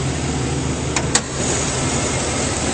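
A 2008 Chevrolet Silverado 2500 engine idles steadily under the hood, a continuous close, even rumble with a brief click partway through and no voices.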